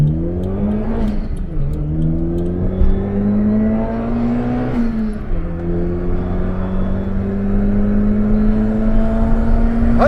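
A Daihatsu Mira TR-XX Avanzato Turbo with a swapped engine drones steadily at highway speed, its revs climbing and dipping in smooth sweeps through two gear-like rises, loud and continuous with road noise underneath.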